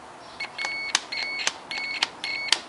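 Several short electronic beeps from a multimeter in continuity mode sound in a quick, irregular sequence, each steady tone lasting a fraction of a second, with clicks between them.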